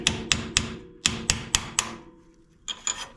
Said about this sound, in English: I take just like a little flat chisel, a little hammer, and just loosen up the collar